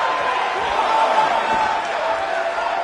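Crowd roaring at a wrestling match in a video game, a broad steady wash of cheering voices that holds at even loudness from start to end, with no clear individual words.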